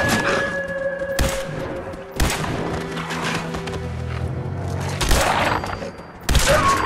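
Gunfire in the video game Fallout 4: several sharp, loud shots fire at irregular intervals, each with a booming echo, over steady in-game ambience.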